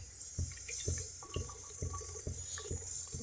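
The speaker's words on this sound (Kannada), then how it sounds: "ಮೊದಲಿಗೆ ಎಣ್ಣೆ ಹಾಕ್ಕೊಳ್ತೇನೆ." Cooking oil is poured into a pan on a home stove, a faint, soft liquid trickle with small regular ticks and a low background hiss.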